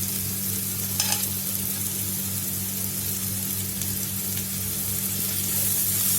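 Chopped carrot, beans and cabbage sizzle steadily in a hot frying pan for egg fried rice, a continuous close frying hiss with a brief clatter near the start and no talking.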